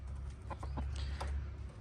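A young fighting rooster in Thailand gives a few short, separate clucks over a low steady background hum, close and moderately loud with no voices.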